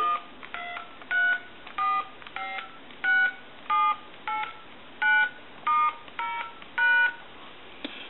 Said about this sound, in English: We're going to dial our numbers.